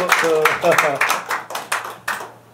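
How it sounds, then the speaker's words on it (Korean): Scattered audience clapping at a Los Angeles forum comes in uneven, distinct bursts rather than a full roar, with someone speaking over the first part. "자, 박수 한번 보내주십시오."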